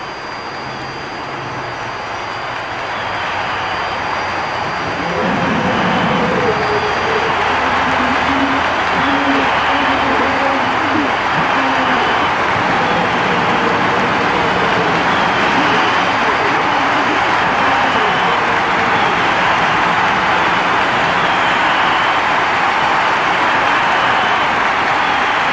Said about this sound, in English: again with twin jet power on this beautiful tractor